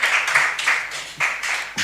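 A studio audience at a televised contest show breaks into brief, bright applause, a dense patter of clapping in short swells that fade and pick up again.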